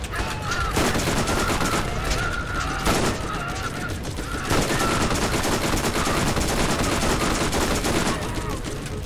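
An enemy turret gun firing in the video game Borderlands, loud continuous rapid automatic fire with mechanical clatter, steady and close for the whole stretch, with game sounds layered over it.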